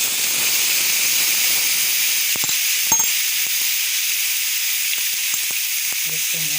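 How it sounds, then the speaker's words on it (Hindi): Chicken fries on a hot tawa griddle with a steady, loud sizzling hiss, broken by a few faint clicks. A voice speaks briefly near the end. "चिकन को थोड़ी देर तवे पे डाल के ना इसको भून लेना"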